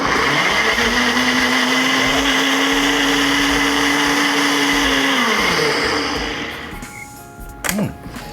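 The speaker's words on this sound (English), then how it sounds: "we're going to blend this sauce." Blender whirring loudly as it purees a mint sauce, a steady motor whine with a slight pitch rise, then spinning down near the end, followed by a short clatter.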